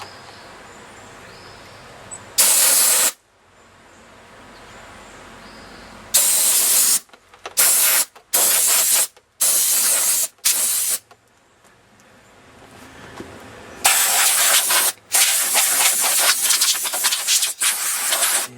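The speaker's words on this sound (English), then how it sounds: "This damn blowgun ain't very good. Dies out pretty quickly." Compressed-air blowgun blasting at a riding mower carburetor: several loud, sharp bursts of rushing air of varying length, separated by quiet gaps, ending in a longer sputtering stretch as the pressure dies out.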